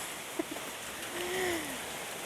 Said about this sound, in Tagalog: Malakas-lakas na naman ang ulan.